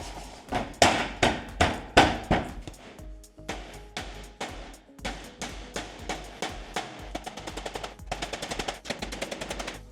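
Eaves flashing being nailed down with galvanized roofing nails, sharp close hammer blows in fast repeated bursts, sometimes a few spaced strikes and sometimes quick rattling runs, ringing against the metal sheet.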